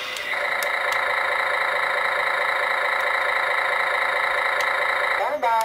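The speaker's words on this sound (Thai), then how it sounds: "นี่สตาร์ทเครื่องกับปิดเครื่องนั่นเองนะครับ" Electronic engine sound effect from a large remote-control toy crane: a loud, steady droning idle that holds evenly for about five seconds, then cuts off abruptly with a brief falling tone.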